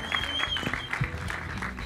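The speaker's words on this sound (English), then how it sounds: "जोरदार तालियां हो जाए" Scattered, moderate applause from an audience at a Bollywood film trailer launch for Main Aur Charlies, uneven and somewhat thin, with hints of voices mixed in.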